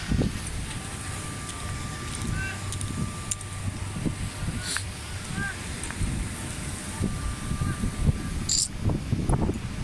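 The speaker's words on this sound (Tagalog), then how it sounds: "Ang lakas ng hangin sa dagat." Strong wind at sea buffets the microphone with a steady, rough roar, gusting louder near the end, with faint sea and wave noise underneath.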